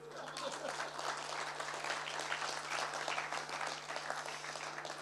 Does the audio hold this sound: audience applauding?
yes